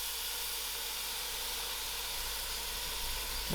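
Spices frying in a pot for loki dhal, giving a soft, steady hiss and sizzle at low volume, with a brief clatter at the very end.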